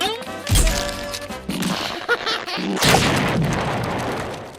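A cartoon explosion from SpongeBob SquarePants hits hard and loud with a booming blast, then crashes and rumbles on through a long, noisy tail. Short bursts of music and effects sit around the blast, and no voices are heard.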